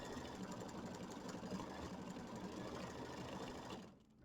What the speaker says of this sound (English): It's going to stitch the outline and a little bit of a fill,